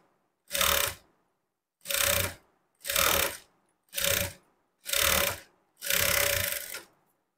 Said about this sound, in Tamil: இதில் வந்து எட்ஜில் தையல் போட்டுக்கலாம்.